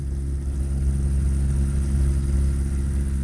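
A Rotax 582 aircraft engine turning a three-blade propeller runs at a steady, loud drone with a strong low hum that holds constant throughout, with no voices.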